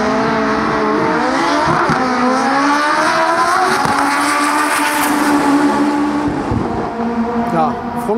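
Drag racing cars running at Santa Pod raceway, a loud engine roaring and revving with rising and falling pitch, heard nearby over continuous crowd and track noise, with someone talking in German over it.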